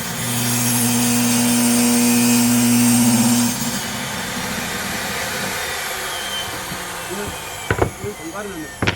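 A power saw cuts wood panels for a vented subwoofer box with a steady, loud whine for about three and a half seconds before winding down, followed by a few knocks and someone speaking.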